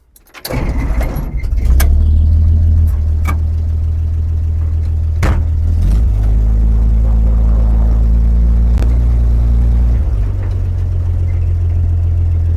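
A 1950 farm truck rat rod starts up and its engine settles into a steady, loud low rumble as it creeps along slowly in low gear, with a few clicks and knocks early on and no talking.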